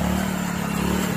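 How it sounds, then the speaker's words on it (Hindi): A bike engine runs steadily in a brief, loud burst with a low, even mechanical drone and no speech. "अब तो ये बाइक ही ले आए इनके पास"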